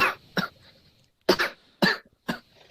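Four sharp coughs in irregular succession, close and fairly loud, with brief pauses between them and no talking.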